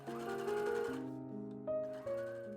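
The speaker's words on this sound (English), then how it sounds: "Sew them in place." A sewing machine stitches a pocket seam on a pants skirt, a close, steady mechanical whir with rapid stitching rattle that slows and speeds in short bursts, no voices over it.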